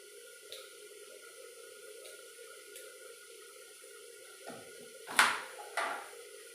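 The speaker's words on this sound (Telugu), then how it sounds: "ఆనియన్ పైన నల్లగా ఉంటుంది కదండి అందుకని కడుక్కుంటాను" A kitchen tap runs steadily and faintly while an onion is rinsed under it, with a couple of louder splashing bursts near the end.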